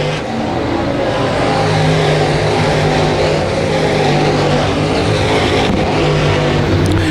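Late model race cars roar around the dirt track at Genesee during a RUSH heat race, a loud, continuous engine drone with steady revving and no pause, close and dominant throughout.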